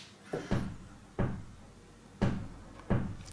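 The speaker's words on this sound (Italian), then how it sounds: "La simmetria del toc toc che sentite dipende dalla regolazione dell'onda quadra." An ARP 2600 FS synthesizer's square-wave oscillator slowed to LFO rate ticks out five sharp, knock-like clicks at uneven intervals, each a loud broadband transient with a brief tail, heard alone without any voice.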